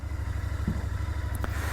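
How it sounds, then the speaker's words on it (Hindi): A Royal Enfield Continental GT 650 motorcycle idling while it warms up, giving a steady low, rhythmic engine thrum close by with a faint clatter or two over it. "और बाइक को अच्छे से वार्म अप कर लिया से मैंने"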